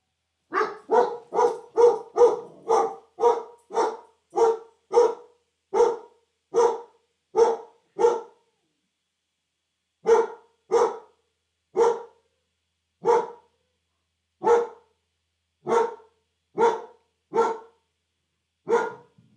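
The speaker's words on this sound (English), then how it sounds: "Sorry about the barking." A dog barks repeatedly and loudly at close range, in a fast run of barks, a short pause, then slower, evenly spaced barks.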